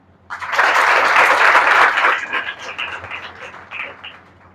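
An audience at an Indian institute event breaks into loud, dense clapping that peaks quickly, then tapers off into scattered claps over a few seconds.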